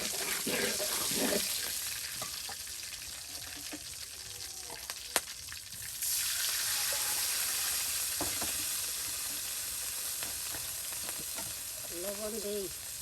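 Spicy chicken feet stir-fried with spices in a pan in village-style home cooking give a steady close sizzle, with scraping stirs and clinks, a louder hiss midway and a brief voice near the end.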